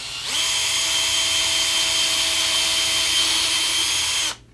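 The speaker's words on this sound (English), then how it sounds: "you'll drill a tiny little hole like this" Power drill boring a small hole through a painted Telecaster guitar body, a loud steady high whine that starts abruptly, holds for about four seconds, then cuts off.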